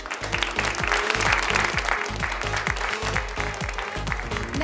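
An audience at a textile fair event claps loudly and continuously in a steady round of applause, with some music or noise underneath.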